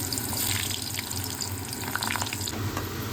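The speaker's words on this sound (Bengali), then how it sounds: "আলুর স্টার্চটাকে জলের মধ্যে ভালো করে ধুয়ে নিতে হবে।" Cut potatoes being washed in water to rinse off starch: steady running and splashing water with small clinks and swishes, close and moderately quiet, no voices.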